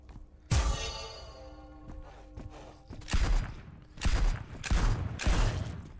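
Heavy gunshots from a powerful gun in the demon-wave roguelike shooter Blood Reaver, five or so loud booming blasts spaced unevenly over several seconds, each with a sharp crack and rumbling tail.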